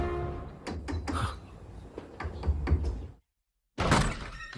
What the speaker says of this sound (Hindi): दरवाजा खटखटा के थक गया हूं मैं।